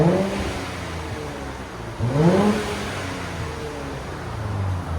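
A 2023 Nissan Z with an X-pipe delete exhaust blips its engine twice, each rev rising sharply then settling back to a steady idle drone, heard outside the car at close range without speech.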